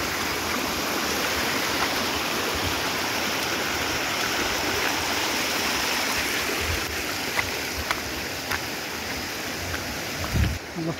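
A river stream rushes beside a flood-damaged road, its rushing water constant and fairly close, with a few dull knocks and thumps toward the end.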